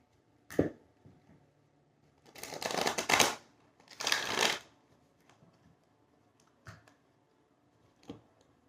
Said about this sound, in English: When I'm doing this, I do silence prayers while I'm shuffling.